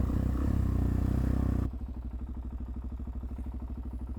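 Motorcycle ridden along country roads, its engine a loud, continuous drone with a steady pulsing throb, heard close up and dropping to a lower, choppier beat partway through, with no talking.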